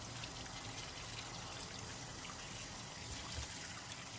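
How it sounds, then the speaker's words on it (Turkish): Bursa tomatoes are washed in water, a faint, steady trickle and splash of running liquid throughout with no talking. "Öncelikle domateslerimizi güzelce yıkayalım."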